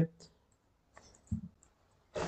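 Mouse clicks while filling out an online pension application form, a few sharp isolated clicks with quiet gaps between them, close and fairly soft, with brief low thumps and a bit of background voice.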